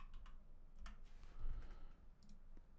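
Fingers typing on a computer keyboard during a livestream browsing car listings, a faint scattering of irregular key clicks over low background hum, with no talk.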